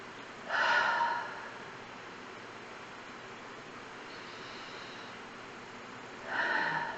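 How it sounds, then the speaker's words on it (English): Two slow, deep breaths drawn in and released, a soft airy rush near the microphone, each rising and fading with a long quiet stretch between them. "I'm going to ask you all just to take some deep breaths with me"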